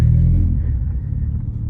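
An Acura CL with a 5-speed manual rolls slowly through a parking lot, its engine a steady, close low rumble that eases slightly after the first half second.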